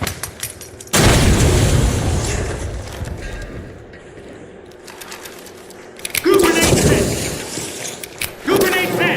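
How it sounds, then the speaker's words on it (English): Frag grenades explode in the first-person shooter video game The Finals: a loud, sudden blast followed by rumbling debris, then two more sharp bursts later, with a voice talking between them. "Frag grenade out."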